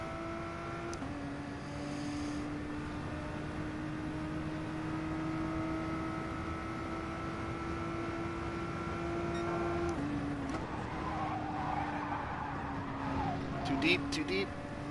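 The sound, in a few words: race car engine and wheel spin in GT Sport video game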